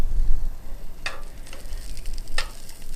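Sausages frying on a camp cooker outdoors, a steady close sizzle with a few brighter spits and pops.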